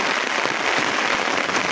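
Rain pours near the India border in a remote hilly area of Bangladesh, a loud, dense, continuous hiss of drops striking surfaces close by.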